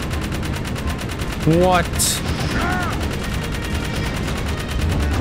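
Rapid turret gunfire rattles through a video game firefight, a steady stream of bursts running throughout and loud under excited players' voices, with one voice asking a brief question.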